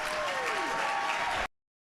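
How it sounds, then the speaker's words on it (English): An audience at a startup demo day bursts into dense, sustained applause with some cheering, loud and continuous for about a second and a half before cutting off abruptly to silence. "let's give a big round of applause and a big cheer"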